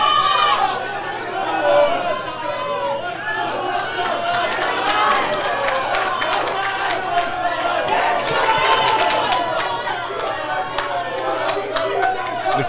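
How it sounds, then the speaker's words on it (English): A crowd at a Scottish super-bantamweight championship boxing match roars and cheers steadily, a dense continuous wash of voices with a commentator talking over it. "The crowd really getting behind these two."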